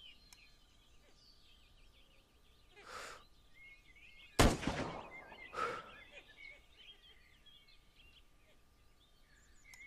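A single sharp sniper rifle shot in the survival game SCUM, a loud broadband crack that rings out briefly against quiet outdoor ambience with birdsong in the background.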